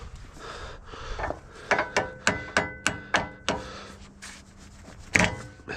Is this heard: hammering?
yes